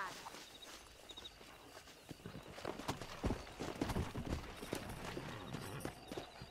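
Horse hooves clip-clop steadily in Red Dead Redemption, a close, rhythmic run of hoofbeats over an outdoor game ambience that grows livelier toward the middle.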